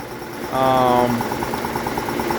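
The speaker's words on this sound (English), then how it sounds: "It's a very nice running compressor." A Saylor-Beall air compressor fitted with an oversized quiet air filter runs with a steady, pulsing mechanical drone close by while a person talks over it.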